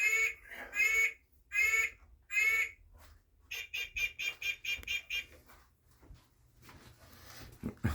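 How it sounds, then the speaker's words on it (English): A bird clock chimes one o'clock with recorded bird calls: four loud, ringing harmonic calls, then a quick run of a dozen bright chirps, heard close with no talking. "there goes my bird clock"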